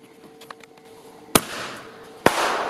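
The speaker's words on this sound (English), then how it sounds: "Fireworks." Two sharp fireworks blasts boom out in a pitch-dark outdoor setting, the second roughly a second after the first, each leaving a long crackling, hissing tail, with faint scattered pops before the first.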